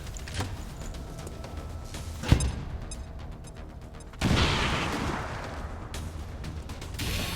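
An enemy is blown up in XCOM 2 with a sharp explosive blast, then a second heavy boom with a rumbling, roaring tail that lingers to the end.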